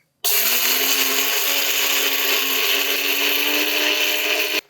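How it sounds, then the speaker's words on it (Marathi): A mixer grinder whirs loud and steady for several seconds, grinding roasted fenugreek seeds, cloves and black pepper into a fine spice powder, starting abruptly and stopping cleanly with no talk. "खडे मसाले जे आपण भाजून घेतलेत हे मिक्सरला फिरवूयात"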